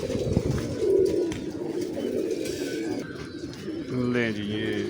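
Pigeons at a breeding setup coo in low, throaty murmurs close by, with a clearer rolling coo near the end and speech mixed in.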